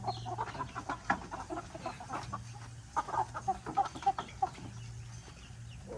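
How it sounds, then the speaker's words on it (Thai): Chickens, four-month-old birds kept at a rice field, cluck in short scattered bursts over a steady low hum, close by and moderately loud. "ไก่สี่เดือน"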